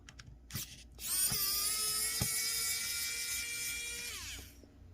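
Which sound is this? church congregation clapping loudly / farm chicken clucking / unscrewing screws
unscrewing screws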